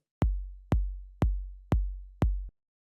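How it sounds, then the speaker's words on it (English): 808 kick drum sample for minimal house: five deep booming kicks in an even, steady beat, each with a sharp click and a long low tail, close and isolated. "the first thing we have going on here is this 808 kick"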